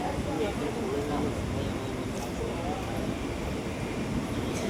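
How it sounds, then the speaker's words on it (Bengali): A train pulls into a station on the Kanyakumari to Kolkata route with a steady, broad rumble that holds throughout, and people can be heard in the background. "ট্রেনটা ঢুকেছে 4 মিনিট লেটে, আর বেশিক্ষণ দাঁড়ালো না, ট্রেনটা আপনি ছেড়ে দিল।"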